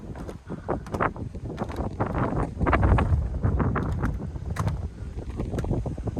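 Brisk wind gusting outdoors beside an inn between Newport and Cwmbran in Wales, buffeting the microphone with loud, continuous rumbling bursts and no talk.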